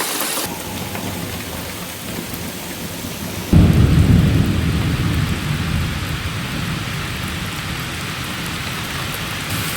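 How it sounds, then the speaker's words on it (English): Steady heavy rain pours down, and a deep roll of thunder breaks in partway through, leaving the downpour louder afterward. "Sorry if you can hear the rain, it's really picking up now"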